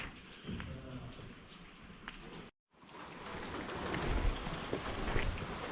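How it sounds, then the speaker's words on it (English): Steady rain falls around an abandoned clay pipe factory in Cannelton, a broad continuous hiss with scattered drops and patter that briefly cuts out, then returns slightly louder and fuller. "I apologize for the rain"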